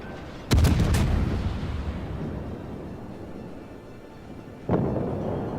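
Heavy naval gun salvos in World of Warships from the German cruiser Hindenburg: a loud booming blast with a crackling burst, a long rumbling decay, then a second weaker boom near the end.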